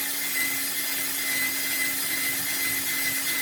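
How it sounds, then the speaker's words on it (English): A power drill whines steadily at close range as it bores into the metal body of a 1966 Ford Fairlane, a constant high-pitched grind with no talking. "And now we'll drill in."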